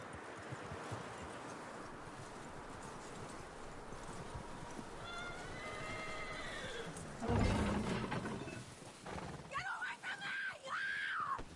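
A horse in the video game Red Dead Redemption 2 gives a drawn-out whinny and later a shorter one, with hooves clopping and a loud rustling burst in between.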